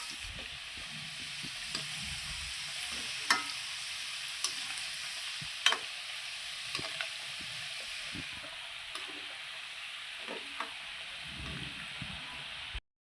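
Gavvalu, small shell-shaped dough pieces, frying in hot oil while a ladle stirs them gently: a steady close sizzle runs throughout, punctuated by scattered light scrapes and clinks of the ladle, with no voices.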